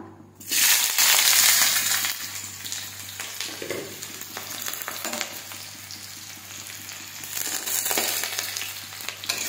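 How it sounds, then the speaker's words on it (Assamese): Chopped onions and three green chilies tipped into hot oil in a kadai, bursting into a loud sizzle that settles into a steady, close frying crackle with faint stirring, a low hum underneath. "এতিয়া ইয়াত দি দিম মই কাটি লোৱা পিঁয়াজখিনি আৰু জলকীয়া 3টা।"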